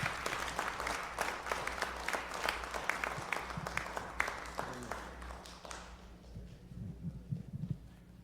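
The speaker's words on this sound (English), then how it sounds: "Let's give them a round of applause." An audience at an education roundtable event in Chicago applauds the panelists in a steady burst of clapping that fades out after about six seconds, leaving a quiet room with faint rustling.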